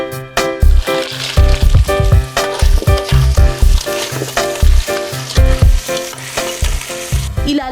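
River clams fry in a pan with onion and garlic, giving a loud, close sizzle broken by regular clattering stirs and scrapes of a utensil against the pan, with no one talking.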